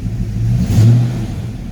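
A 1990 Ford Mustang GT V8 with a 70mm BBK throttle body revs briefly, rising to a throaty peak then settling back to a low rumble, close and loud.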